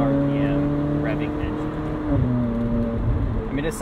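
Ferrari 458 Spider engine revving toward a 9,000 RPM redline: a steady, tonal engine note holds, then dips and shifts pitch, heard under someone talking throughout.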